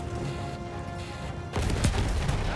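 A loud burst of booming gunfire-like blasts erupts midway over a steady droning Battlefield 1 game soundtrack, continuing in rapid rumbling crackles.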